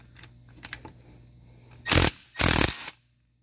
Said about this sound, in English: I'm going to use my impact here.